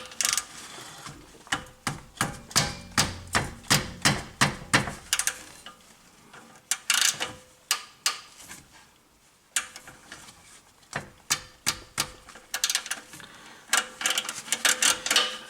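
Wrench working on a seized bolt of a Honda turbocharger, producing a series of sharp metallic ratcheting clicks in uneven bursts with brief pauses, close and distinct with no talk.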